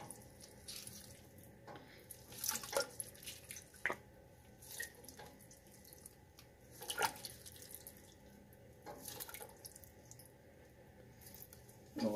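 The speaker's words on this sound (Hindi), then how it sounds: "3 गिलास से ज़्यादा का पानी मैं इसमें यखनी में डाल रही हूँ" Water poured from a glass into mutton stock (yakhni) in a pot for Punjabi mutton pulao, soft splashing and dripping at close range with intermittent clatter, no talk.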